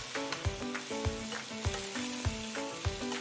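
Meat fries in hot oil in a pan, giving a continuous crackling sizzle with regular soft scraping thumps from stirring about every half second. No one speaks.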